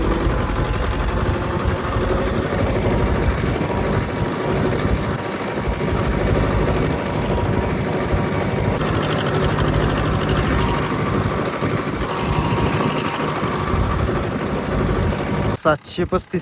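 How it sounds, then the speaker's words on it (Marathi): FE tractor with a Kirloskar engine running, a steady loud mechanical drone with rapid rattling texture, continuous and close, with voices talking over it and a brief clatter at the end. "FE चालू आहे किर्लोस्कर इंजिनवाला"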